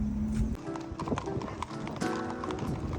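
Horses gather before a parade in Jaguarão, hooves clip-clopping on pavement in uneven, overlapping steps amid a busy outdoor crowd, with background chatter and a brief whinny.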